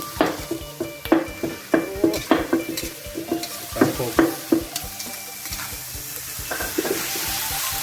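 Garlic stirred and fried in a pan for Isan-style duck larb, loud repeated scraping strokes of a utensil against the pan in a quick rhythm over a continuous close sizzle, with no talking.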